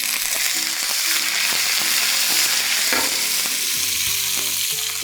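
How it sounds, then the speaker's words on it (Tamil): Dried red chillies and curry leaves tempered in hot oil for a chicken kofta curry, frying with a loud, continuous close crackle and spoon stirring, no one talking. "இது தாளிப்பு, வரமிளகாய் கொஞ்சம் கிள்ளி போட்டுக்கலாம். அடுத்ததாக கருவேப்பிலை, கொஞ்சமாக கருவேப்பிலை சேர்த்துக்கிறோம்."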